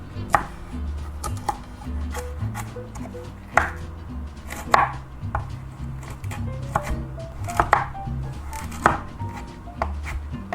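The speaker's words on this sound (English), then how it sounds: "We're going to skin these and then chop them." A knife chops parsnips on a cutting board in a home kitchen, with a series of close, sharp, irregularly spaced thuds and clicks over a low hum.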